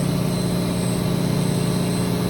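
A CNC machine drills with a cobalt drill at 8,500 RPM and 30 IPM while machining solenoid engine parts, giving a steady, loud, even machine drone with a constant low hum throughout.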